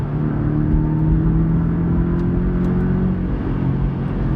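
A Porsche 718 Cayman S engine drones loudly and steadily under load in fourth gear at 4,000 rpm with the exhaust open, a deep throaty rumble holding a constant pitch close by.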